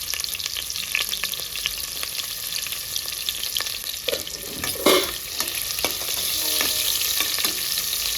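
Chopped onion fries with cumin in a hot pan, giving a bright, crackling sizzle that goes on throughout. A few louder bursts and stirring scrapes rise above it midway, and no one speaks.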